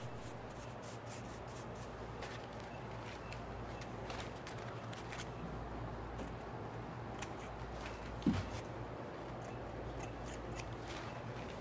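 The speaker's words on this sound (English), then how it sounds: "And again, it's just a scissor cut." Scissors cut through AquaFlash roof flashing, producing a series of close, raspy snips and rubbing scrapes over a low steady hum, with one sharper click near the end.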